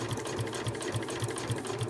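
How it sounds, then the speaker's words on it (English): A sewing machine runs steadily, stitching a pocket in place along its edge for a sewing machine cover, with an even rapid needle rhythm close up and no talk. "you're just going to stitch that pocket in place along the edge"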